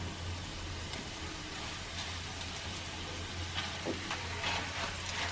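Boiled taro sizzles in hot oil with green chilies and onion in a pan, giving a continuous crackling fry at moderate level with no talking.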